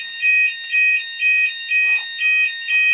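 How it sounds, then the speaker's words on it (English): House fire alarm going off, a loud, shrill electronic tone beeping in regular pulses about twice a second, close and steady, with faint background noise. "you have to go by the door when the fire alarm's off"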